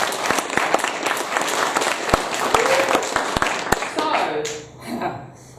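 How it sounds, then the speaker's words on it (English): Applause from an audience at the close of a political speech, a dense spread of clapping with sharp individual claps standing out, tapering off toward the end as voices rise. "Give yourselves a round of applause"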